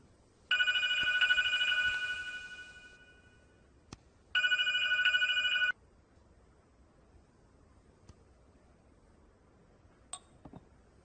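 A phone rings twice, bright electronic trills in two bursts with a pause between, followed by quieter clicks and handling noises.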